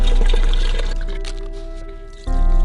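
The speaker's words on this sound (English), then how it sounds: "me pouring wax layers into a crayon mold" Melted crayon wax poured in layers into a crayon mold, a steady close liquid stream with a soft trickling wash that thins slightly, then swells again near the end, with no talking.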